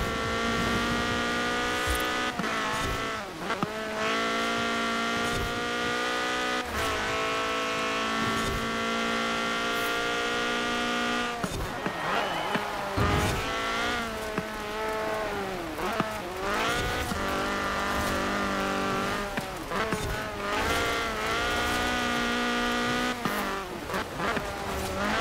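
A Ford Fiesta in Forza Horizon 4 races a custom track in the wet, its engine wailing up through the gears with repeated shifts, drops and tire squeals, loud and continuous throughout.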